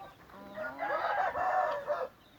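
A purebred Indian Aseel rooster crows once, close and clear, a single drawn-out call of about two seconds that rises and then holds before cutting off.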